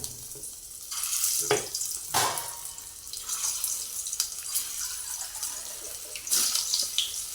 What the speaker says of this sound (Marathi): सर्व कारल्याच्या फोड्या आपण चांगल्या तेलामध्ये परतून घ्यायच्या आहेत